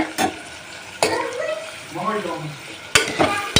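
Tomato mixture bubbling and simmering in a pan for tomato bath, a soft continuous sizzle broken by a few sharp knocks of a spoon against the pan, with someone talking in between.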